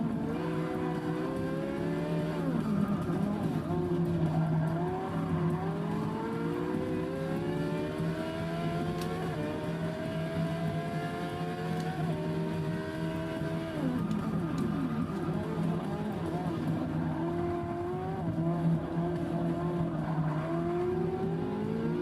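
A Porsche race car in Forza 6 drones steadily at high revs, its engine pitch climbing in repeated sweeps as it shifts through gears, loud and continuous with no talking.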